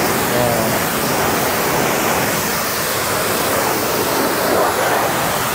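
A pressure washer spraying water forcefully for cleaning a two-wheeler, giving a loud, unbroken hissing rush that holds steady for the whole stretch.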